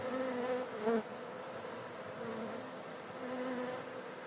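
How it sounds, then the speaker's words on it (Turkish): Close, continuous buzzing of many honey bees, with a few individual bees droning louder as they pass near, no voices. "Biraz yerde yine arılar var."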